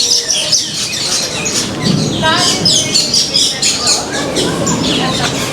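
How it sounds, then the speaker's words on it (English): Dense chirping and tweeting of many birds in the aviary of the Maharajah Jungle Trek at Disney's Animal Kingdom, overlapping calls filling the space while people talk nearby. "We have all of these birds on here and then some."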